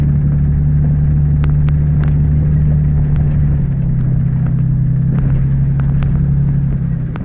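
A vehicle with spinning wheels driving on a rough hill trail, a loud steady engine rumble with a constant low drone and occasional knocks from the ground, close and continuous.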